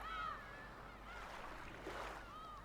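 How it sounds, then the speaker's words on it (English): Seagulls crying over a faint ambient bed in the Umineko no Naku Koro ni visual novel: a few thin, drawn-out calls near the start, middle and end, quiet and somewhat distant, no talking. "you all get to listen to the wonderful, wonderful seagulls for a little bit"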